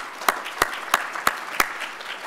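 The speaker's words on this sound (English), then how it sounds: "So let's give them all a round of applause." Five slow, evenly spaced claps ring out at a 2021 State of the County address, sharp and moderately loud against a quiet background, sounding more like a lone clapper than a full crowd.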